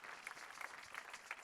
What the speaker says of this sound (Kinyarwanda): Munyemere dukomere Imana amashyi yabanye natwe muri aya materaniro.